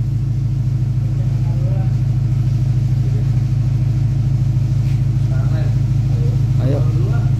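Deep, steady engine rumble from a BMW W90 fitted with a double-exit exhaust, held at a loud, even idle throughout, with voices talking over it and a few brief mid-range squeaks near the end.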